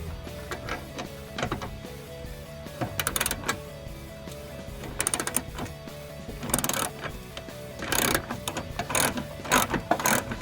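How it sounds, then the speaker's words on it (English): Ratchet with a 10mm socket unscrewing fender bolts on a 2005-2009 Mustang, rapid clicking pawl bursts up close with metallic clacks, repeated in several runs. "I can take my 10mm socket with my ratchet and unscrew these 3 bolts"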